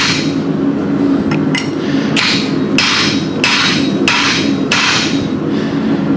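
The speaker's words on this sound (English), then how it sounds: "Now we're going to start stretching that hole out with a long tapered punch." Hammer blows striking a long tapered punch to stretch a hole in hot steel while forging a hook, a series of loud sharp metallic strikes at a steady rhythm over an anvil ring, close up.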